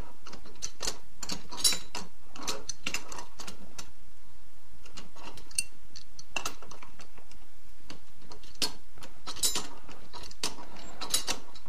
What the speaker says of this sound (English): insert the new diffuser, screw it into the front of the gun. You want to tighten this diffuser as tight as it will go.